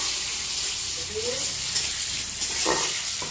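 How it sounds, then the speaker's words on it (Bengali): Cumin seeds frying in hot oil for a duck curry give off a continuous close sizzle, with a few light stirring scrapes and clinks over it. "আমার জিরেটা খুব সুন্দরভাবে ভাজা হয়ে গেছে"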